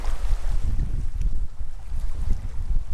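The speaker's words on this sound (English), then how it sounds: "All right, wind, you can push me." Wind gusting across open water while kayaking on the upper Wisconsin Dells, a steady low rumble of wind buffeting the microphone with faint water movement.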